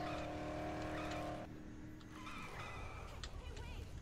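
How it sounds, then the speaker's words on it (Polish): A car engine drives in the Dead Island video game, a steady humming drone with a tonal whine that drops away, followed by rougher engine noise and road rumble. "Odpalaj ten silnik. I jedziemy."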